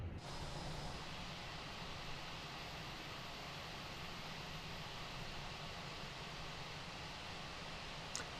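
Airbus A320 jet engines idling during pushback in Microsoft Flight Simulator, a steady, loud broadband roar with a low rumble that holds evenly throughout, with no voices.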